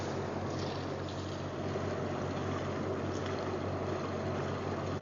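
Leopard 45 catamaran motoring up Whangārei Harbour under engine, a steady low engine drone with wind and water wash over it, continuous and moderately faint.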